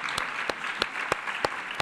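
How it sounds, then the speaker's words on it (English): Summit audience applauding a panel discussion, a steady moderate wash of many hands clapping with a few distinct nearer claps standing out, no voices over it. "One more round of applause for this panel that just passed."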